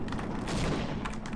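A grenade explodes close by in Half-Life, a dense, sustained blast of gunfire-like bursts and booms filling the whole moment with no talk.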